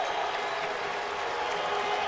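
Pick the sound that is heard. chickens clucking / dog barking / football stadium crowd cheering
football stadium crowd cheering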